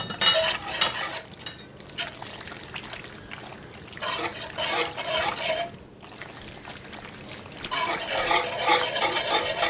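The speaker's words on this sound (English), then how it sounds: "Keep stirring it around. Get those noodles all." Rigatoni noodles stirred in a pan with starchy pasta water for a cheesy Parmesan sauce: steady wet scraping and clinking of a utensil against the pan, coming in uneven bursts with brief pauses, close and fairly quiet.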